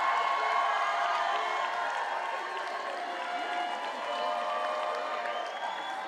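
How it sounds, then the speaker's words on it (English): A graduation crowd at an African American Studies Black Graduation ceremony claps and cheers steadily for family and friends, a dense, sustained wash of applause with scattered shouts throughout. "I want you to give a shout out, applause to your family and your friends for being there when you"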